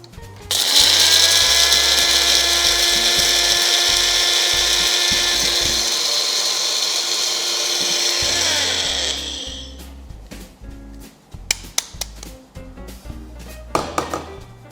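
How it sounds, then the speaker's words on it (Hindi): A mixer grinder whirs loudly for about nine seconds while grinding spices for a raw papaya pickle, then winds down, followed by clattering thunks of the jar and lid. "इसे हम मिक्सी में क्या कर लेंगे,"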